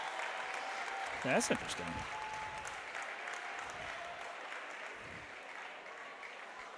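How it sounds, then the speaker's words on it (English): Crowd applause in a gym for the Franklin Panthers volleyball team returning to the court at a Division 1 state final, a steady wash of clapping with a brief louder burst, under a voice speaking. "Hear the applause there for the Franklin Panthers as they come back onto the court."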